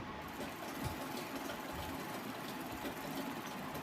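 A sewing machine stitches the lining of a blouse with a soft, steady mechanical whir and rapid needle chatter, fairly faint and continuous throughout, with no speech.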